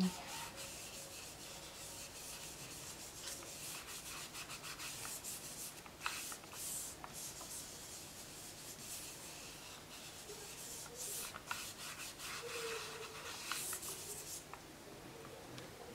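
Dry pastel spread over paper, a faint soft rubbing in irregular short strokes, close and quiet with no talk.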